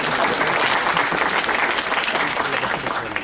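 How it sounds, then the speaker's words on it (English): Audience clapping hands for a speaker dressed as an Ati-Atihan dancer, a loud, full burst of applause sustained throughout and easing slightly at the end. "Clap your hands."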